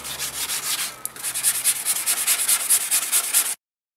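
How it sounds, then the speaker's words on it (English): Sand film wrapped on a backing pad is pulled back and forth over a car body panel, giving steady rhythmic scraping strokes, close and clear, ending abruptly in silence. "wrap the sand film around it, get your floats, pull it about"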